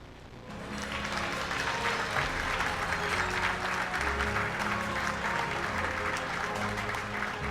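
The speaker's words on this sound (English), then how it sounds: "please help me with a resounding round of applause as we" A large audience at an awards ceremony claps in a sustained, dense round of applause that swells after the first second and holds steady, with a low hum of music or voices underneath.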